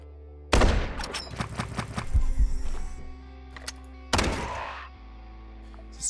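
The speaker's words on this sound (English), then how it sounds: "Seems like we are not very accurate with our shots." Gunfire in the turn-based shooter Quasimorph: a first volley of several sharp shots in quick succession, then a thudding pause, then another loud burst that fades out.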